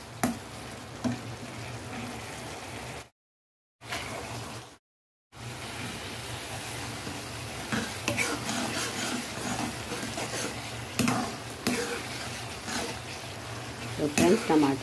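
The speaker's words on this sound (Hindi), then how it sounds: "तो फ्रेंड्स टमाटर हमारे थोड़े थोड़े पकने लगे हैं।" Tomatoes cooking in a pan over a medium gas flame, a steady low sizzle with occasional stirring clinks running under a voice, briefly cut off twice.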